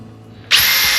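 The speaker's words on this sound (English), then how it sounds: "We'll take our small drill bit and put a hole here" A small bit in a power drill boring a hole for a DIY kayak crate: one sudden high-pitched whirring burst that starts abruptly halfway through and holds steady, close and loud.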